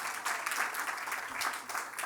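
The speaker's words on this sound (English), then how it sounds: "Please give a big round of applause for DSLBD Director Rosemary Suggs-Evans." An audience applauds at a press preview for the 2025 DowntownDC Holiday Market, with dense, steady clapping that holds for about two seconds at moderate loudness.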